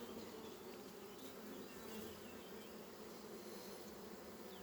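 Honeybees from a recovered swarm buzz in a steady, dense drone that holds at an even level throughout, close and continuous, with no talking.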